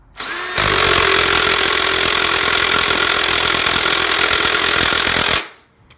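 Air impact wrench hammering on a motorcycle flywheel nut, one continuous loud rattling burst lasting about five seconds, close up, then cutting off.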